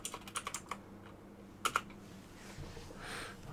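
Light, quiet keystrokes on a computer keyboard come in a quick burst of taps, a pause, then a couple more clicks, against faint room background.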